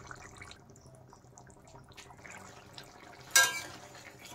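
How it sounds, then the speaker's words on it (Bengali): Masala mushroom curry gravy boiling in a pot: soft, scattered bubbling and popping of thick liquid, fairly faint, with one brief louder splash near the end. "দেখেন ঝোলটা কিন্তু ভালোভাবেই ফুটে গেছে।"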